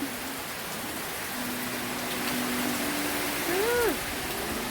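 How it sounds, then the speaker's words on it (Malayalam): Heavy rain pours in a steady, dense hiss, with a brief rising and falling tonal call near the end. "ഭയങ്കര മഴ നല്ല മഴ നല്ല കടത്ത കാറ്റും നല്ല മഴയും"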